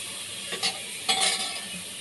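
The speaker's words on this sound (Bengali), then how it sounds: "এটা একটু হালকা ভেজে নেবো" Chopped vegetables fry lightly in a little oil with a soft, steady sizzle and two brief utensil scrapes in the pan.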